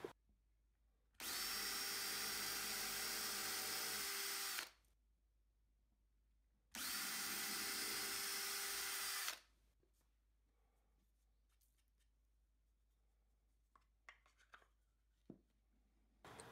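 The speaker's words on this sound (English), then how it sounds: "Drill a small pilot hole and then follow up with a 3/32 inch bit." A power drill whines loudly in two bursts of a few seconds each, drilling a pilot hole in wood, separated by silence, followed by faint scattered clicks and handling noises.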